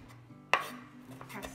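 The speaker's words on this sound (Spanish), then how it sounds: "Alumnos, estoy cortando el perejil." A single knife chop on a cutting board steadied by a cloth underneath while parsley is being minced, a sharp close thud standing alone in a quiet room.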